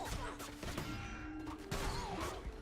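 Several explosions from the video game Cult of the Lamb go off in quick succession, loud booming bursts with crackling tails, clustered close together over a couple of seconds.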